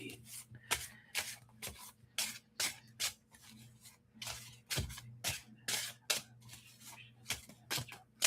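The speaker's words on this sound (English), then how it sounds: "Let me just shuffle these cards." Tarot cards are shuffled repeatedly, crisp riffling bursts in an uneven rhythm, close to the microphone.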